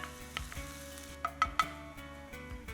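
Onion and garlic sizzle steadily in a hot pan, browning lightly, while a utensil scrapes and knocks against it a few times, close up, with no one talking.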